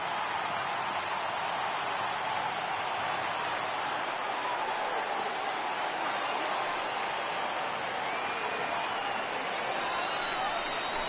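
A packed Yankee Stadium crowd of over 52,000 in MLB The Show 18 roars in a steady, continuous wash of cheering and clapping that holds at an even level throughout.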